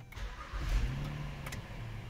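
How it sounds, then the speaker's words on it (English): An Acura/Honda car engine starts up and settles into a low, steady idle, heard close by with a brief bright rattle partway through. "I'm gonna start it back up."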